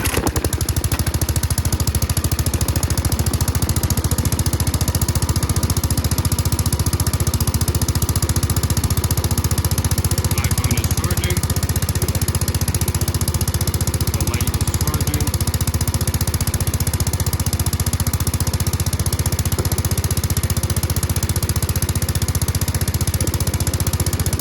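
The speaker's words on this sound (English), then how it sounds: "start the engine." Small minibike engine, fitted with a USB charger and light, runs steadily after starting, a loud continuous chugging drone that holds throughout without talk over it.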